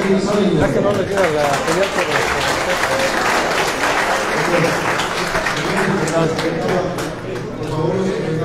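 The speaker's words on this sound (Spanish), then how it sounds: "Un aplauso para el participante de Villar de la Vega, por favor." Steady, dense audience applause fills a billiards exhibition hall at a Magic Tour match in Mexico, loud and continuous throughout with a broad wash of many hands clapping at once and no break.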